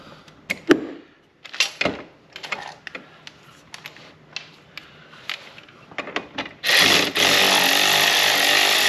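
A power tool spins out 12 mm bolts on a 2024 Kawasaki Ultra 310 jet ski pump, a loud sustained whirring burst near the end after scattered clicks and clanks of handling tools.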